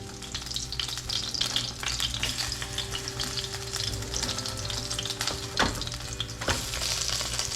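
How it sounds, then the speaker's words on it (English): Steady crackling sizzle of battered fish shallow frying in hot oil, continuous and close, with a few louder pops and spatters. "Now we're just shallow frying again"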